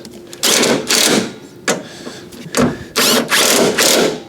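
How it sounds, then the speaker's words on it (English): Power tool retightening bolts on a Fiat 500 wheel arch, several short whirring bursts separated by brief pauses, loud and close. "I just need to retighten these."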